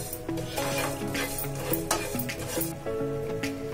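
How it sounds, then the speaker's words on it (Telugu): Coriander seeds fry in a pan with cinnamon, cloves and cardamom for a prawn pickle, giving a soft steady sizzle broken by scraping stirs, with a sustained tonal layer, like background music, running underneath. "ధనియాల్ని ఫ్రై చేసుకోవాలి"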